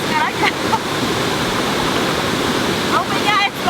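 Yeh Ho waterfall in Bali roars as a steady, loud rush of falling water throughout, with brief voices talking faintly over it near the start and end.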